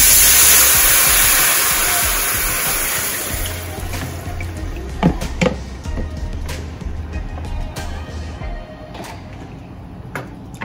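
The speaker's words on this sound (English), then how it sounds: "you're gonna pour your water in" Water is poured into a hot pan while searing fish Mediterranean style, giving a loud rush and sizzle that starts strong and then settles into a quieter bubbling hiss with a few knocks.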